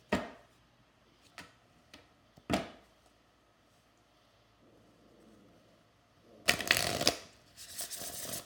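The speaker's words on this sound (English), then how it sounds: "I'm going to pull one more card for you" Tarot cards shuffled before a card is pulled: a few soft taps and riffles early on, then a loud, dense burst of shuffling near the end, close up, with no voices.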